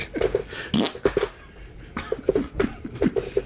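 A comic fart sound effect plays in a quick run of short, buzzy bursts, several in a row with brief gaps, fairly loud and close.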